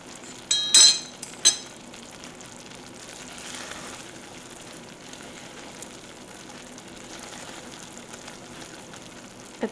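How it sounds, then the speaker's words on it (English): Frozen-dessert batter being mixed in a kitchen bowl, a soft, steady wet swishing and stirring with a couple of sharp clinks near the start, continuous and close. "Let's mix it."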